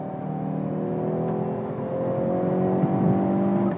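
A Hyundai Veloster N engine pulls hard under acceleration, a steady loud drone with rising harmonic tones that climb through the run, heard from inside the car with no talk over it.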